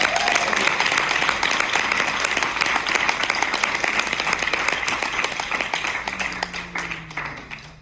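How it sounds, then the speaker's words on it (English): A church congregation applauds steadily with dense, sustained clapping that slowly thins out toward the end. "Can we give her a round of applause?"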